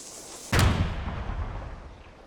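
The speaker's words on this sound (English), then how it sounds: "Fire the cannon?" A cannon in the video game Ylands fires once, a sudden loud boom that rolls off into a long rumbling decay, with no talking.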